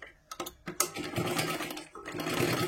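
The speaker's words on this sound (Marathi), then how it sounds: "2 वेळा मशीन फिरून घ्या, जेणेकरून ते पूर्ण पॅक होऊन जाईल." A sewing machine stitches the piping onto a princess-cut blouse in fabric, with a steady mechanical whir that starts in short bursts and then runs continuously.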